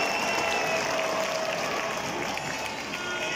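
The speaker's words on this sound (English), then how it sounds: "please be glad to be known our referee who made such a contribution to this game. A round of applause." A crowd at an All Ireland Junior Club Football final applauds the referee, sustained dense clapping that holds steady and then eases slightly toward the end.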